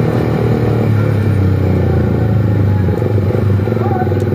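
A Suzuki GSX-R150 motorcycle pulls hard on a test ride in Bogor, its engine droning loudly and steadily close by with a faint rattle, as a rider's voice talks over it.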